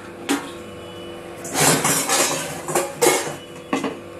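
Large steel plates (thala) being handled, clanking and clattering against one another in bursts, with several sharp metallic knocks, close and fairly loud, separated by quieter gaps.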